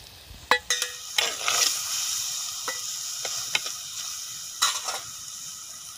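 A turmeric and chili powder mix sizzles in hot oil while fish is being fried, a soft steady hiss punctuated by sharp scraping clicks of stirring against the pan.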